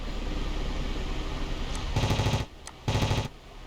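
Machine guns rattle in an air combat video game, two dense bursts of rapid fire, each lasting about half a second, separated by a brief lull over a steady low engine drone.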